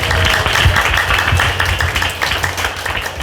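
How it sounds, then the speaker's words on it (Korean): Guests at a book launch and author meeting applaud to welcome the director of a seniors' welfare centre, a dense steady clapping throughout, close and loud. "큰 박수로 환영해 주시기 바랍니다"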